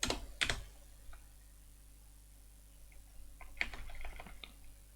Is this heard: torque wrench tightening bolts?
no